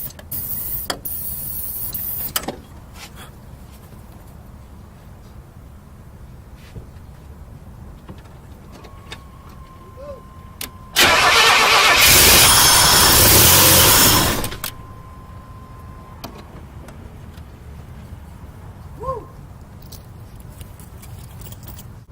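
A Buick T-Type engine with old fuel cranks and fires, producing a loud burst of running for a few seconds before cutting out, framed by quieter clicks, mechanical clatter and a faint steady tone around it.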